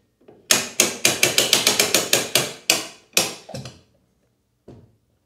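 A ratchet winch on a stand-up jet ski boat trailer gives a fast run of sharp, close mechanical clicks, slowing to a few last ones, with no voices.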